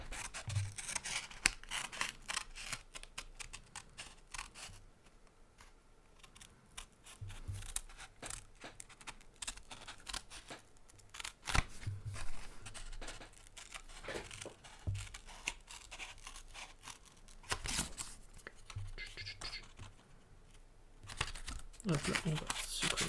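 Scissors snip around a paper circle being cut out for a colourful spinning-top craft, giving repeated crisp cuts and paper rustling at close range while a person talks.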